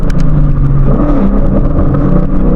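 A car engine revs hard in third gear on back roads, a loud, close, steady rumbling drone climbing in pitch with slight wavering, no talk.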